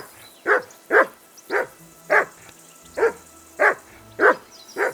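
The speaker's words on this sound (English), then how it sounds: "Whistle at that mutt of yours to stop barking." A dog in Kingdom Come: Deliverance II barks repeatedly, eight loud, close woofs spaced roughly half a second apart in a steady rhythm, with faint low ambient tones behind.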